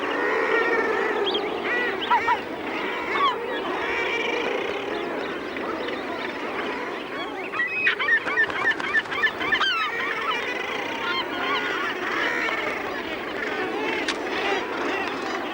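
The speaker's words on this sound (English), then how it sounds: "More than ever, gulls are directing their hunger at other seabirds, like murres." Loud, crowded calling at a seabird colony of gulls and murres, with harsh overlapping honking and squawking cries that continue throughout.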